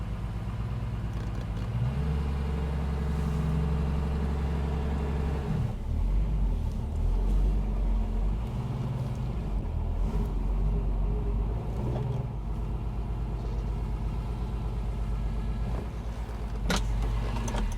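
Classic Mercedes-Benz 280 SL Pagoda with manual gearbox pulling away, a close low engine rumble that rises and shifts as it drives off, steady in the cabin with no talk.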